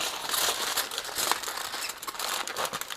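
Foil or paper wrapping crinkles as it is folded into a pocket around racks of pork ribs, a dense close-up rustle with sharper crackles throughout, no voices.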